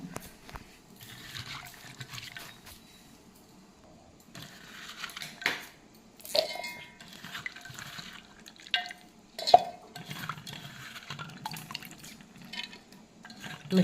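Intermittent splashing and sloshing of water in a bowl as cut coconut pieces get rinsed by hand, with occasional drips and light knocks.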